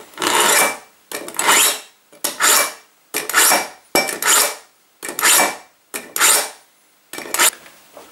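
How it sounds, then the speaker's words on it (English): A cheap IKEA kitchen knife is drawn through a block knife sharpener, giving eight loud, evenly spaced raspy strokes about a second apart, close up with no talk. "So we'll have a go at sharpening the knife"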